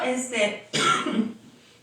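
A person coughs sharply twice, with throat clearing, at close range.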